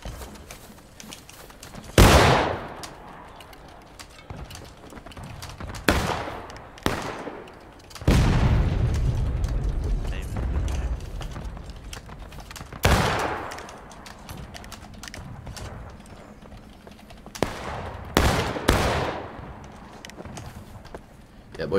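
Artillery blasts and rifle shots ring out in the Civil War video game War of Rights, loud booming impacts at intervals with sustained rumbling barrages, mixed with voices talking over the battle.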